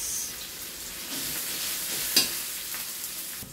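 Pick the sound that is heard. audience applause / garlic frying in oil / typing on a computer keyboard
garlic frying in oil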